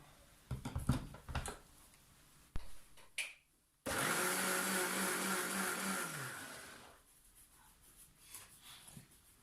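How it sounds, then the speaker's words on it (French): An electric blender whirs loudly for about three seconds, blending dates, milk and ice cubes into a smoothie, then spins down. Knocks and clatter from kitchen handling come before it, and quieter handling follows. "Et on va mixer le tout."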